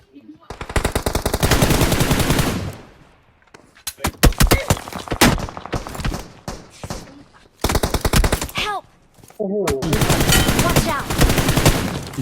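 Rapid automatic gunfire from the video game PUBG Mobile rattles in long, loud bursts separated by short gaps, with individual sharp shots and a few brief tonal game sounds between volleys.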